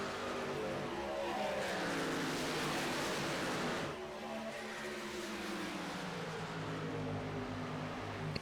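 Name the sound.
race trucks racing at Atlanta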